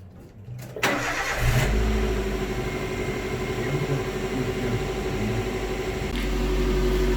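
A small 1300 car engine fires up and revs hard for a loudness test, a loud steady drone held for several seconds before the pitch shifts near the end, with no talking.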